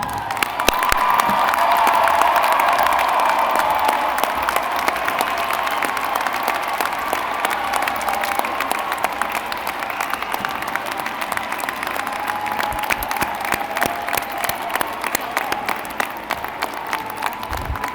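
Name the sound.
commencement audience applauding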